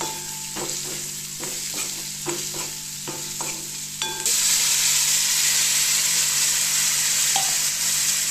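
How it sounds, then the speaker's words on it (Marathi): A spoon stirs a dry Bombay duck (bombil) and vegetable mixture in a pan, with several distinct scraping strokes at a steady rhythm before a loud, continuous sizzle and hiss takes over. "परत सर्व मिश्रण एकत्र करायचं."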